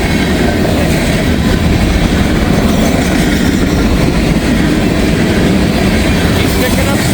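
Freight train with open boxcars and full ethanol tank cars rolling steadily past up close, a loud continuous rumble with rail clatter and faint wheel squeal throughout.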